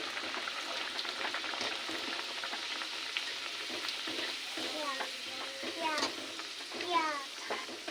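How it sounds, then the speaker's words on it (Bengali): Pea-filled kachori and luchi fry in hot oil in a kadai, giving a soft continuous sizzle with bubbling that grows livelier near the end, while a voice speaks quietly in the background. "কড়াইতে তেল গরম বসিয়ে দিয়েছি, তেল গরম হয়ে গেছে। এবার দিয়ে দেবো লুচি, কচুরি।"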